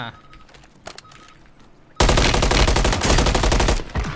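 Rapid automatic fire from the MCW rifle in Call of Duty Warzone erupts loud and dense after a quieter stretch of faint game noise, hammering steadily for about two seconds before easing slightly.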